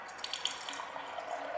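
A Keurig Kold soda machine dispenses water into its carbonation chamber, a faint, steady trickling pour for about a second and a half with no voices.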